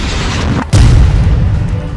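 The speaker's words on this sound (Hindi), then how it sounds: "जिस जगह पर यह दस्ता छुपकर इसराइल पर हमले की फिराक में था वहीं पर इसराइल ने हवाई हमला कर डाला।" A heavy boom from an Israeli air strike in Gaza hits suddenly partway through, followed by a loud, deep rumbling roar that stays up to the end.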